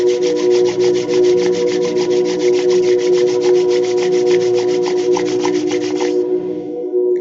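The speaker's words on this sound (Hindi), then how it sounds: "दोनों हाथों को अच्छे से रब करेंगे" Two hands rub briskly together during a meditation session, a steady rapid swishing close to the listener that continues for about six seconds and then stops over a constant background hum.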